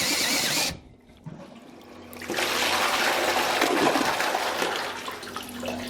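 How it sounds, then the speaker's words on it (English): A powered drain piston tool works inside a toilet, churning and splashing water in a loud rushing surge. A brief lull follows, then the splashing builds back to a sustained gush. "we take our drain piston with our tool attached, we simply insert it down into the toilet"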